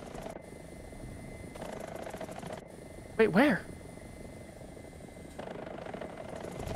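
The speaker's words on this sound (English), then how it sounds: "I hear a helicopter, but where?" A helicopter flies nearby in the tank combat game War Thunder. Its rotor gives a steady, droning whir under the gunfire ambience, and a player briefly speaks over it midway.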